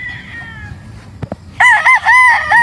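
A gamefowl rooster lets out a loud, close crow with a wavering, drawn-out call after a few soft clucks and faint distant crowing, with no one speaking.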